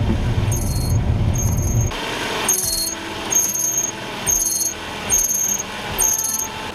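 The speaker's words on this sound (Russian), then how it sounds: "это пищит ремень генератора" A cold Hyundai Sonata engine runs while its alternator belt squeals in repeated high-pitched chirps, about one per second, loud and close.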